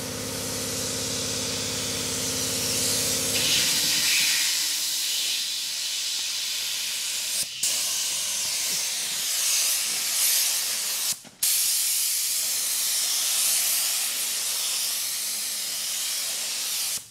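Spray gun laying down the first coat of white paint on the roof of a 1954 Chevy, a loud steady hiss running almost continuously with two brief breaks, preceded by a short humming compressor-like tone at the start.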